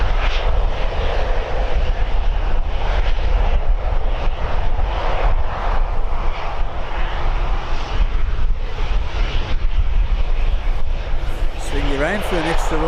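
An Aer Lingus ATR turboprop runs loud and close at Birmingham Airport, a dense, continuous engine drone with a pulsing texture, while someone talks over it.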